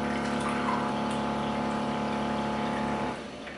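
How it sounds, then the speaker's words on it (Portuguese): An Electrolux Pure 4X water purifier runs just after dispensing cold water, a steady pump-like hum and watery whir close by that drops in level near the end, with no voices over it. "Ele faz barulho principalmente depois que você serve de água."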